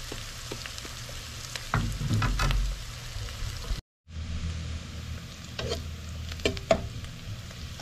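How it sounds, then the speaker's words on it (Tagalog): Onions sautéing in a pan for a halal buffalo meat menudo, a steady close sizzle and crackle with occasional stirring scrapes, briefly cutting out before resuming. "At hintayin nating masute. Hintayin nating brown din yan."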